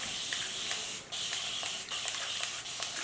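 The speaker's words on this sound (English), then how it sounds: "So I'm going to really spray my hair with a lot of water." Hair misted with water from a spray bottle while being sectioned for a sleek ponytail, giving a steady close hiss broken by a few brief gaps between pumps.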